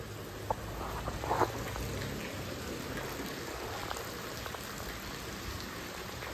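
Heavy rain falls steadily in a village in Odisha, a dense unbroken hiss of drops drumming on surfaces close by, with a few louder splatters and no voices.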